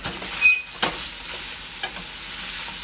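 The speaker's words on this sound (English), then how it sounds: "we are just frying up some bacon" Bacon frying in a pan on a stovetop, a soft steady sizzle with a few sharper crackles and the clink of a utensil stirring, close and moderate in level.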